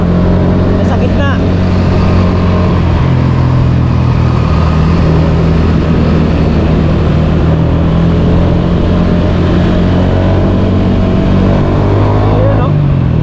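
Loud, steady motor engine drone recorded while riding through traffic, a constant close hum with slight pitch shifts and brief higher whines near the start and end.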